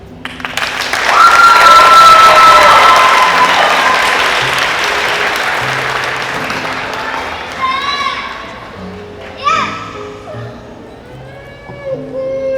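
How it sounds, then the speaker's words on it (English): Loud applause and cheering from a school crowd at a McAuliffe goodbye gathering, peaking early and slowly tapering as children's voices and chatter rise through the later seconds. "Let's give Bianca another round of applause."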